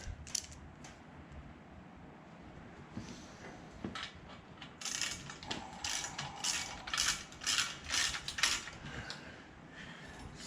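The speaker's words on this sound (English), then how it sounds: "let me tighten up these bracket bolts while we've got access to it" Ratchet clicks tightening radiator bracket bolts on a 2012 Hemi 1500 pickup, close and moderately loud, starting with scattered clicks and then settling into bursts of rapid ratcheting strokes over a low shop rumble, with no talk.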